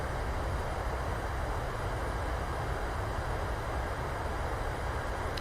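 Airliner thrust reversers deploying on landing in a flight simulator: a steady, loud broadband roar of engine and rushing air that holds constant throughout, with no talking.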